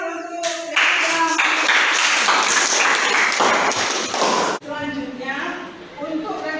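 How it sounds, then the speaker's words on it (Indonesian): Applause in a teacher-training performance assessment session, a dense burst of group clapping lasting several seconds with talk over it, then a sudden cutoff followed by a single voice speaking. "kita berikan tepuk tangan untuk yang sudah."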